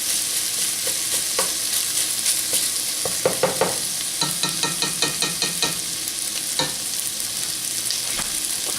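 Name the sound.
bacon frying in a pan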